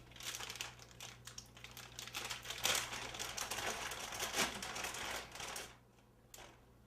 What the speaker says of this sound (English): pat the full bag dry with paper towel